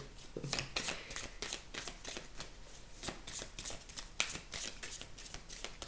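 Oracle cards being shuffled by hand, a close, quiet series of repeated riffling flicks and soft slaps in an uneven rhythm, with no voices over it.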